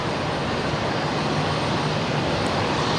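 A Qantas Boeing 737 on its takeoff roll at Brisbane Airport at night gives a loud, steady engine roar with a faint low hum underneath, sustained and even throughout.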